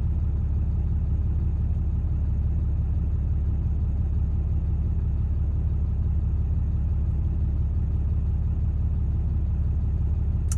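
A Cummins 6.7L diesel engine with its stock grid heater and intake deleted idles steadily, a close, low, even rumble with a fine rapid pulse and no change in pace.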